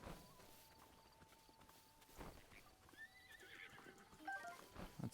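Horse in a Zelda game neighing in a rising whinny amid clip-clopping hooves, faint and somewhat distant, with scattered hoof steps throughout.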